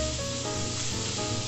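Chicken sizzles in a pan with a constant close hissing spray of frying, steady throughout and without any voices.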